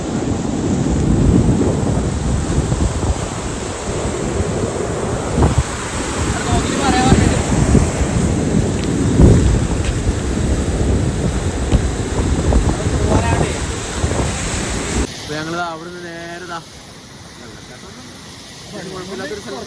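Surf washing onto a beach dominates as a steady, loud roar with gusty wind buffeting the microphone; people talk over it, and near the end the surf drops back under a closer voice.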